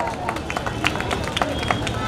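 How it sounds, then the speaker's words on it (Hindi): Crowd clapping at an outdoor prize-giving during a Run for Ambedkar event in Varanasi, rapid scattered claps under a babble of voices and an amplified announcer. "जोरदार तालियों से स्वागत।"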